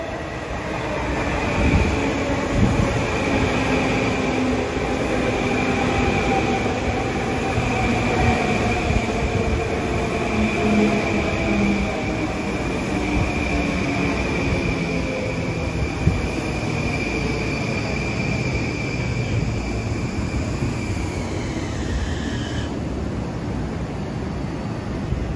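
A Long Island Rail Road commuter train rolls steadily through Merillon Avenue station, a loud continuous rumble of wheels on rail with a faint high whine that drops away near the end.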